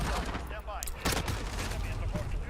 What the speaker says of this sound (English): the next one is the MP7. 40 rounds, or 50 rounds, 60 rounds of destructive power.